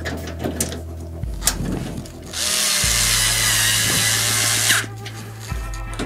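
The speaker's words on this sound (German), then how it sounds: "weil ich ja dann auch die anderen Schrauben schon wieder eindrehen kann" A power drill drives screws into the panel of a Siemens IQ700 washing machine, giving short whirring bursts between pauses and then one longer sustained high whine, loud and close.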